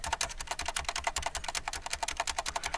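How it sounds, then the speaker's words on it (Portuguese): Rapid, steady clatter of keys on a computer keyboard, repeated presses of the Enter key in quick succession, close and fairly loud with no talk. "E aí eu vou pressionando Enter, ó."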